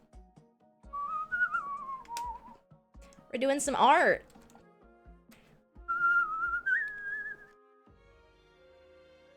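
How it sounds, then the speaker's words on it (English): A person whistles a wavering tune in two separate phrases, close and fairly clear, with people talking and keyboard-like tapping around it in an indoor setting. "Well, and some whistling."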